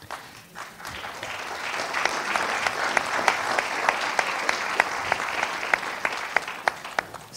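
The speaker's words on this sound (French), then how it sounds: "Ces applaudissements, je vous remercie" A large audience applauds steadily at the opening of the 2017 World Social Forum in Paris, with dense, sustained clapping and a few sharper individual claps standing out near the end.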